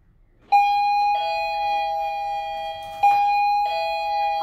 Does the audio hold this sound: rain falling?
no